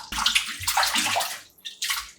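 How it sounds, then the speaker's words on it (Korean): Cut pieces of dried cucumber are washed by hand in a bowl of water. Splashing and sloshing rise and fall in close, lively bursts with short pauses between. "깨끗이 2번 정도 씻어"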